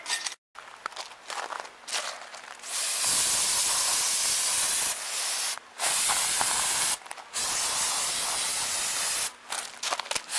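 Rust-Oleum spray paint can spraying car wheels in several long, close hissing bursts separated by short pauses, with a few soft clicks and shuffles between them.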